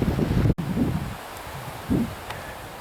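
Wind gusts across a snowy off-grid homestead in bitter cold, a broad rumbling rush that swells and fades in bursts, with a sharp dropout midway and another surge near the end.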